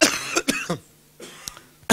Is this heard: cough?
yes